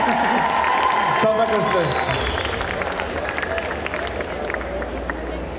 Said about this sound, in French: ça mérite encore d'être applaudi